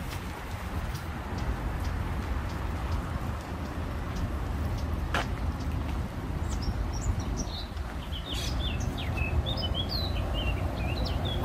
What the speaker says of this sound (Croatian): Ali i crkut ptičica.